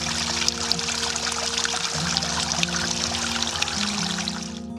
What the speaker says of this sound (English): After you hear the sound of water,